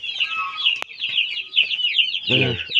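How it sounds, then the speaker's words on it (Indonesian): Dense chorus of broiler chickens clucking and chirping continuously, with a brief sharp knock and a short low voice partway through. "ayam negeri nih"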